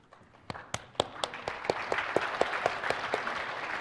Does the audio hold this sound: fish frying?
no